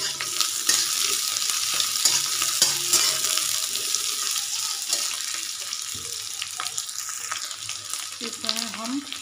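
Onion, capsicum and green chili fry in a pan for cauliflower chilli, giving a steady loud sizzle with scraping stirs throughout and a faint voice in the background.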